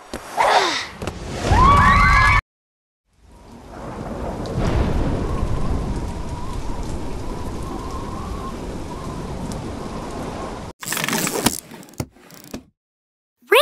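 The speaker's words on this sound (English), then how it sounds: "Rain is liquid precipitation which falls from the sky." Steady rainfall, a dense, even hiss of drops lasting several seconds, framed by brief unrelated noises before and after.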